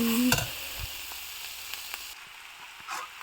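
Vegetable fried rice frying in a pan, a steady close sizzle with a few light stirring scrapes and clinks, and no talking.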